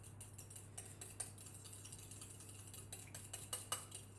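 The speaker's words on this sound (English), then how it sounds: "now I'm going to whisk it very quickly with my fork" A fork whisks egg quickly in a bowl, giving faint, rapid, uneven clinks and taps of metal against the bowl over a low steady hum.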